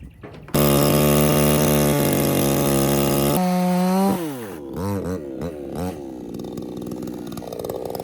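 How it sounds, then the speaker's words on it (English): An anti-kickback chainsaw starts and runs loud and steady at high revs for about three seconds, then is throttled through several quick rev-downs and blips before settling to a ragged idle outdoors. "This is an anti-kickback saw"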